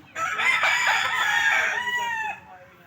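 A gamefowl rooster on a game farm crows once, a loud, close, drawn-out call lasting a couple of seconds before cutting off.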